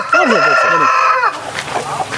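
Rooster crowing loudly and close at a home poultry yard keeping many hens and cocks, one long drawn-out call with clucking fowl mixed in, then quieter farmyard noise as the crow ends.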